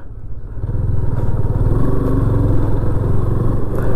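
A motorcycle engine drones steadily while riding on a long road trip through green hill country at Mainpat, Chhattisgarh, a close, continuous mid-pitched rumble with no pauses.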